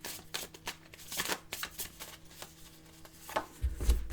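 Tarot cards shuffled by hand before a draw, a steady close riffling and papery slapping that runs throughout, with no voices over it.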